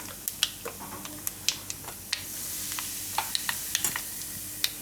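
Nigella seeds and asafoetida sizzle in hot oil while Gujarati dahi mirchi rice is cooked, giving a steady close hiss broken by many sharp, scattered pops and crackles, with no talking.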